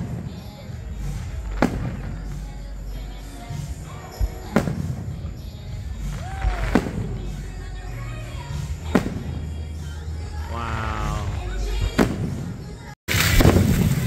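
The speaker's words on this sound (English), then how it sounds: "It's a water fountain fireworks display." Fireworks at Carowinds on Independence Day go off in sharp thumps and pops every couple of seconds, with a whistling rise and a low crowd murmur beneath, during a water fountain fireworks display.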